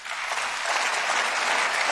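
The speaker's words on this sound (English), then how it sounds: "Zelensky was applauded by MEPs ahead of the address" MEPs applauding in the European Parliament chamber ahead of Zelensky's address, a dense, even wash of many hands clapping, loud and sustained with no voices on top.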